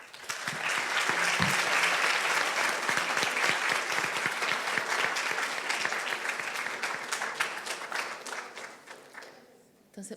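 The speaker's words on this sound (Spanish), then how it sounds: "Un gran aplauso." Sustained applause from an audience at a school debate tournament, steady clapping filling the whole stretch at moderate loudness before tapering off near the end, with some crowd murmur mixed in.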